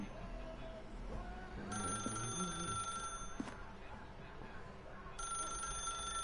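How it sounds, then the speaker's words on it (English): A telephone rings in The Stanley Parable 2 video game, two bursts of bright trilling bells separated by a pause, clear over a low room ambience with some soft thumps. "Now pick up the phone, said the bucket."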